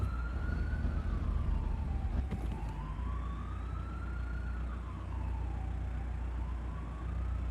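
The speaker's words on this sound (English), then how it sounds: "Turn on the sirens." Wailing police car siren in a video game, rising and falling in slow repeated sweeps, loud and continuous with engine rumble underneath and a brief knock near the middle.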